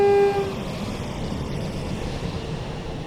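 Class 323 electric commuter train in Train Sim World 5 on the Manchester Airport line at Heaton Chapel, a short horn toot at the start, then a steady rumbling roar of the passing train.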